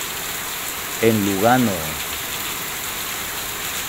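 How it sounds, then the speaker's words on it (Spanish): Heavy rain falling in Lugano makes a steady, dense hiss that fills the whole scene, with a short spoken phrase briefly rising over it. "Como pueden ver, así es como llueve"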